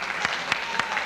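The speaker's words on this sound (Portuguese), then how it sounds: "Aí uma salva de palmas mais uma vez." Brief burst of audience applause at a bodybuilding award ceremony, a few distinct claps standing out over steady clapping.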